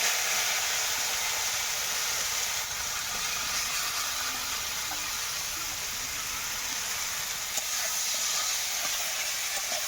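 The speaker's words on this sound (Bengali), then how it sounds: "এই তেলে আমি এই বেতেনগুলো একটু ভেজে নেব" Cane shoots fry in oil with a steady, even hiss that holds at a constant level throughout, with only faint scattered crackles and no voices.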